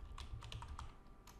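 Quick, steady keystrokes on a computer keyboard, soft and close, tapping in a brisk irregular rhythm with no talking.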